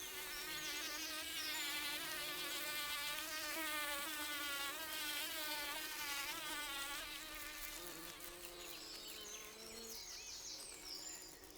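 A bee buzz-pollinating a flower, vibrating up to 370 times a second to shake pollen loose, makes a close, continuous, high-pitched whine that wavers in pitch, with no talk.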